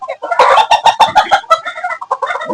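Columbian Light Brahma chickens cluck loudly and close in a quick run of sharp, rhythmic calls that trail off into softer clucks, with no talking.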